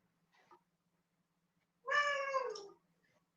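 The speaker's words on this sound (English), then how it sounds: "Is that a cat?" A single cat meows once, clear and fairly close, a drawn-out tonal call lasting under a second, with a faint short chirp before it and quiet room background.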